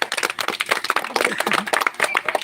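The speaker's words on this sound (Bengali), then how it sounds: "হাততালি হয়ে যাক" An audience at a cricket award ceremony applauds with dense, sustained clapping from many hands, moderately close, with a few faint voices mixed in.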